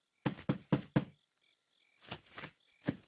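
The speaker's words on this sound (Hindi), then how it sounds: "कोई दरवाजा खटखटा रहा है" Someone knocks on a door, first four quick raps, then a pause and three more spaced knocks, crisp and fairly close in a quiet room.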